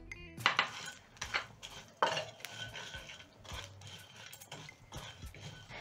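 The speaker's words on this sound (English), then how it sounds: "Next, I'm going to be adding in spices to my pan." Whole spices dropped into a small pan over a medium flame, a run of light clinks, taps and scrapes of metal against the pan, close and fairly quiet.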